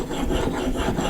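A blade rubbed back and forth on a sharpening stone in a Veritas honing guide, a steady close rasping scrape in rhythmic strokes, with no voices.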